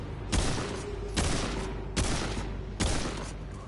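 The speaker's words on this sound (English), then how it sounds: "I shot at him twice and missed both shots." Gunfire in the video game Remnant 2: four heavy booming shots spaced roughly a second apart, each with a long decaying echo, loud and close with no talking.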